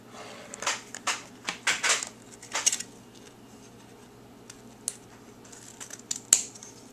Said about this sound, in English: we're going to get the ribbon and we're going to cut it 12 inches